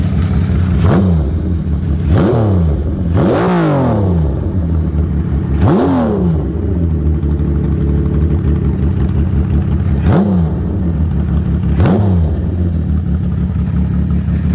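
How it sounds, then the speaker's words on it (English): A Benelli Sei 900 six-cylinder motorcycle engine revs hard through its exhaust in six sharp bursts, each rising and falling over a steady rumbling idle, loud and close. "You gotta listen to the exhaust."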